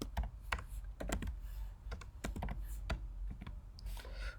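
Computer keyboard typing in a steady run of quick, distinct key clicks with brief pauses, close and fairly quiet, no voices.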